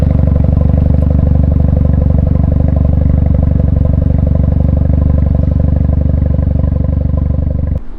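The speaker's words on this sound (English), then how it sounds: "So we're gonna give one more time some appreciation to the exhaust." A Mazda RX-7 FD3S rotary with a Fujitsubo exhaust holds a loud, steady, buzzing rev close to the microphone for several seconds, with no talking, then cuts off abruptly at the end.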